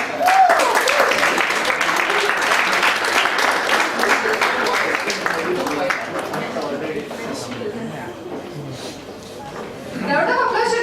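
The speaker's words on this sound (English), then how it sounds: "The round of applause should go on." An audience at an Independence Day celebration applauds a Western dance winner, with loud sustained clapping and cheering that slowly thins toward the end before rising again, with some chuckles and voices mixed in.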